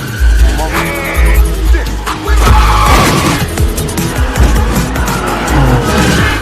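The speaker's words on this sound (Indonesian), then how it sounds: "mobil itu langsung dicoba ketika melintasi beberapa kamera di tempat itu" A fast car in an action film racing past cameras, with a loud revving engine and squealing, skidding tires, under a dramatic soundtrack with some talk mixed in.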